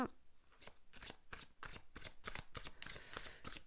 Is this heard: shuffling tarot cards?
yes